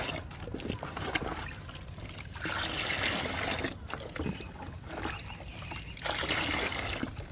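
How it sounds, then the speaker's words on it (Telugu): A liquid of fresh cow dung soaked with neem leaves is poured over fruit plants. It makes a soft trickling and splashing in uneven surges, faint and close. "పండ్ల మొక్కలకి లిక్విడ్ ఇచ్చేద్దాము."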